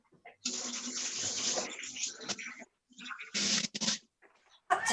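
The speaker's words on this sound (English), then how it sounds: "I'm just going to turn around for a second and wash my hands" Hands being washed under a running kitchen tap, water splashing in irregular bursts that stop and start several times, close and moderately loud, with no talking.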